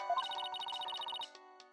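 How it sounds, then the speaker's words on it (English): A video game telephone ringtone plays as a rapid, bright electronic trill in repeated bursts, then a few sparse tones follow as the ringing ends. "I've got to take all the ringtones from these games and just use them as my actual ringtone"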